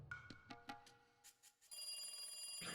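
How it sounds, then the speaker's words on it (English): A telephone rings in a Japanese visual novel scene: a few short, clipped electronic chirps give way to a sustained, steady ring, heard alone at a moderate level. "As soon as I put the phone down, it rang again."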